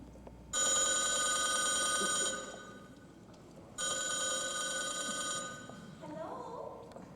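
Old-style telephone bell ringing in two long, loud trills separated by a short pause, with a faint background hiss and no voices.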